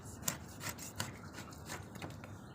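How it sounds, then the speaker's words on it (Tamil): A knife slices a small nethili-style fish into two pieces for salted dried fish, giving a few close, dry rasping scrape strokes of blade against flesh and board, with no talking. "அப்புறம் இதை 2 துண்டாக வெட்டிடலாம்."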